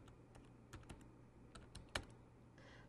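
Soft, quiet keystrokes on a computer keyboard as a search topic is typed into a college library's article search, a sparse irregular run of clicks with no talking.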